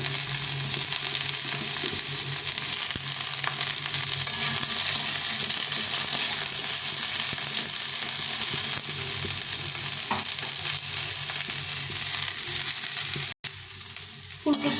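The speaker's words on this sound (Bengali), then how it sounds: "ফুলকপি বেগুনটাকে একসঙ্গে ভেজে নেব সব কিছু একটু ভালো করে ভেজে নিতে হবে" Cauliflower and eggplant fry together in a pan for a Bengali greens dish, a dense and loud sizzle that goes on without a break, with faint stirring scrapes and a brief drop-out near the end.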